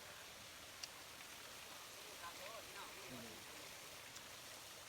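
Steady broadband rush of a waterfall beside a trail near a zoo area, continuous and fairly even throughout, with faint voices and a few brief tonal calls drifting through the background.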